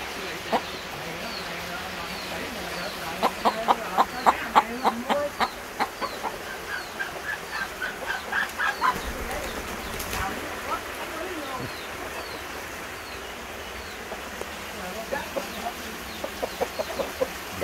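Chickens clucking with a rooster and chicks in a farmyard setting, a steady chorus of soft clucks and peeps with a few louder calls, over a constant background hiss of running water or pumping.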